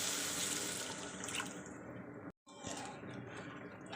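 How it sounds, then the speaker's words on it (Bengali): Water poured into a pan of Bengali-style tilapia fish curry (macher jhal) on the stove: a steady, close, hissing splash of running liquid, broken by one brief gap before the pour resumes. "কষানো হয়ে গেছে, এবার আমি জলটাকে দিয়ে দিচ্ছি।"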